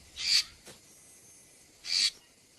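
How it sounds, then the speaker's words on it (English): A Bali starling in Indonesian island forest gives two short, loud, shrill calls about two seconds apart, with a faint note between them against quiet background. "The Bali starling. The last census found only 14 still living in the wild."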